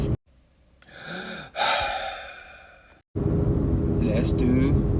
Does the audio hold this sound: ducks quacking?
no